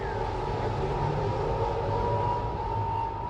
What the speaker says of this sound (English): citizens in built-up areas became all too used to the eerie howl of the air raid siren.